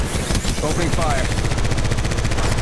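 Rapid automatic gunfire rattles without a break in the Apex Legends Mobile game, loud and close, with game voice lines over it.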